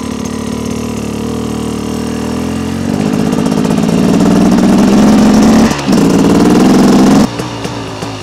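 A 2025 Beta XTrainer 300 two-stroke motorcycle engine runs close by, a loud buzzing idle that rises slightly in pitch midway, with a brief dip before settling again.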